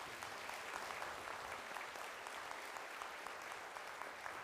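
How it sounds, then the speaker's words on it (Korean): A church congregation claps warmly during a Sunday worship service, a dense, steady roar of applause that holds at an even level from start to finish. "뜨겁게 박수해 주시기"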